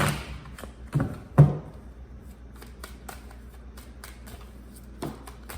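Tarot cards are shuffled and set down with a couple of soft thumps early on. Faint, sparse card taps and slides follow over a low background hum.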